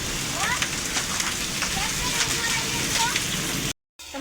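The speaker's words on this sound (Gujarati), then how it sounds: "આમ તો કરા પડે જોઈ લે મિત્રો" Hailstones fall during a storm in a steady, dense patter of hard hits on surfaces, close and loud with sharp individual impacts, broken by a brief gap near the end.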